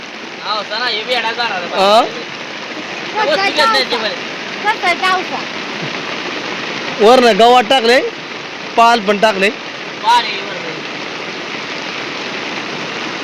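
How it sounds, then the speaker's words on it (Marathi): Steady, heavy rain hisses throughout, falling on open farmland, while someone speaks in short bursts over it. "जोरातून जोरातच पाऊस आला"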